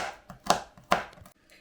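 A kitchen knife chops oven-dried walnuts on a board for a beet and corn salad, with a few sharp, close strokes and two especially loud chops in quick succession.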